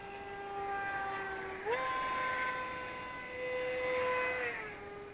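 An Eachine Airloader 1280mm long-range FPV plane's electric motor drones at about 60% throttle, a faint tonal buzz that steps up in pitch partway through, holds, then drops back down.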